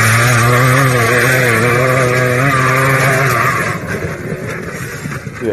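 A motorcycle engine revs loud and close in a steady, high droning whine with shifting pitch, then drops into rougher, sputtering noise near the end.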